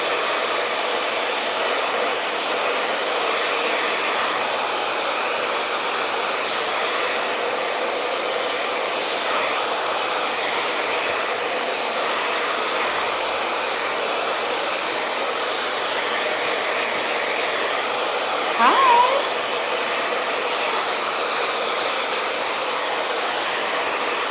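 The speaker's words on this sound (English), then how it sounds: "this whole time I've been holding her hair while I'm blow drying it, so it can blow dry just like this" A hair dryer blow-drying hair at a salon with the tension method, a loud, steady, close whoosh of airflow running unbroken throughout with only a brief bump near the end, no speech.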